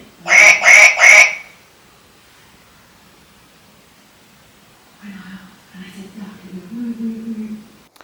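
A toy duck gives three quick, loud electronic quacks in a row, followed by a long silent gap and then fainter, lower squawking sounds from the same toy, heard inside an abandoned bungalow.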